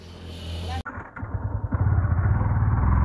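A motorcycle engine runs steadily, then a brief gap, then the engine rises with a rhythmic throb as the bike moves off, close and loud, while a person talks over it.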